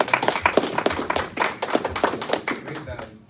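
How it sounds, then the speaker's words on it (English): A small group claps for a trading presenter, uneven and close with distinct individual hand strikes, gradually tapering off as voices mix in. "let's give Tony a big round of applause"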